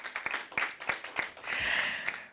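Light, sparse clapping from a small audience at a school debate, a few separate claps followed by a brief swell of applause and then a tail of individual claps.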